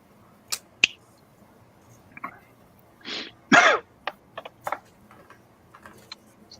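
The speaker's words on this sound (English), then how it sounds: "I got this cough." A person with a lingering cold coughs several times in short, separate bursts. Each burst is dry and close to the microphone, and the room is otherwise quiet.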